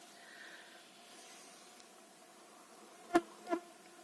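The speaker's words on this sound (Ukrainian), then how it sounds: "дивіться, скільки тут комарів" Mosquitoes hum steadily in a forest on an outing, a faint whining drone close by, with a couple of louder brief buzzes as insects pass near toward the end.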